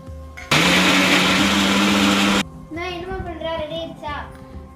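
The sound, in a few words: mixer jar grinding cooled onions with ginger and garlic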